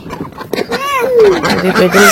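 Domestic ducks quack repeatedly as they are let out in a village yard, a run of loud nasal calls close by, with people talking over them.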